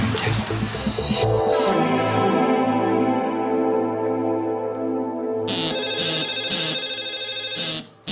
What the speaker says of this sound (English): I heard the phone ring